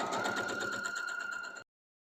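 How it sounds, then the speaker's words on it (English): A sewing machine runs steadily, stitching two pinned layers of fabric together for a cooling neck wrap, with a continuous close whirring hum that cuts off abruptly after about a second and a half. "So now we're going to sew this together all the way down and around."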